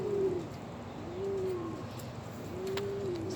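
A pet pigeon or dove gives soft, repeated coos close by, three drawn-out calls spaced about a second apart over a quiet indoor background.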